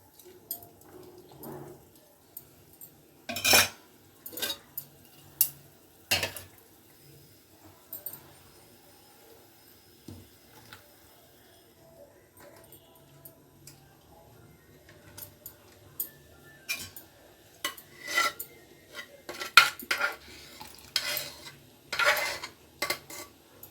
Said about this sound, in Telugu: పులుసు అయితే మంచిగా మరుగుతుందండి